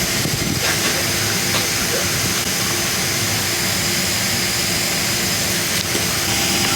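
Engines of a Delta Airlines jet airliner before takeoff, a loud, steady roar and hum heard from inside the cabin, unbroken for the whole stretch.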